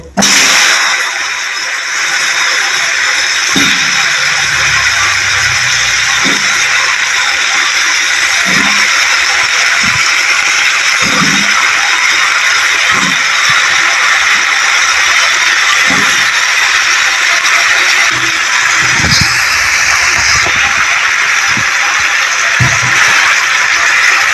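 Cauliflower pieces fry in hot oil with cumin seeds for a rohu fish curry with potatoes, a loud, constant sizzle close up, with scattered soft pops and light clinks as pieces go in.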